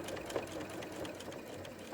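A sewing machine running a short back stitch on a boned bustier: a quiet, rapid mechanical whirr and knocking with a steady rhythm, close by and alone.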